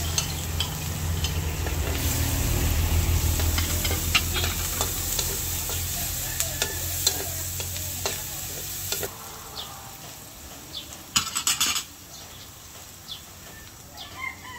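Garlic and onion sautéing in oil previously used for frying salmon, a close, steady sizzle with stirring scrapes that is loudest at first and then settles, with a few sharp clatters near the end.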